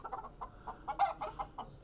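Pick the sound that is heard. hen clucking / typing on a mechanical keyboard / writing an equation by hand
hen clucking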